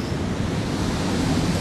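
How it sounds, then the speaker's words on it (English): Ocean waves crash along a coastline in a steady, close, broad roar of surf mixed with wind buffeting the microphone. "Waves are amazing,"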